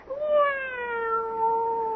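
A house cat gives one long, drawn-out meow that slowly falls in pitch, close by and alone, lasting nearly two seconds.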